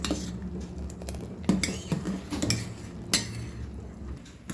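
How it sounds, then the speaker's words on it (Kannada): A spoon stirs jaggery melting in a pot of sago payasam, making irregular clinks and scrapes against the metal over a soft bubbling bed, close by with no speech. "ಬೆಲ್ಲವನ್ನು ಸೇರಿಸಿದ ನಂತರ ಕೈ ಆಡಿಸ್ತಾ ಇರಬೇಕು, ಇಲ್ಲಾಂದರೆ ತಳ ಅಂಟ್ಕೊಳ್ತದೆ"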